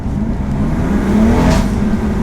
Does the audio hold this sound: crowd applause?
no